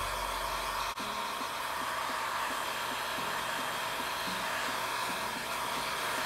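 A hot air blower heats craft foam pieces, giving a constant loud rushing hiss that runs unbroken throughout with only a brief dip near the start.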